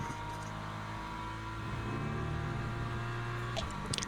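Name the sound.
BMW race car engine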